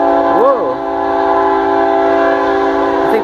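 CSX freight train Q363 sounds its horn while passing, a loud sustained multi-tone blast with a brief bending swell near the start, then holding steady with rumble underneath.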